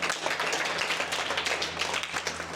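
A crowd claps for a boy named Arjun on a Rishikesh radio programme: a steady, dense patter of many hands, fairly close, with no talking over it.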